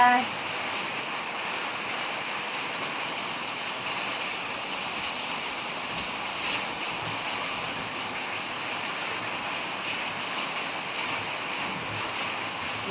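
Rain falls steadily outdoors, an even wash of hissing patter that holds for the whole stretch without clear breaks.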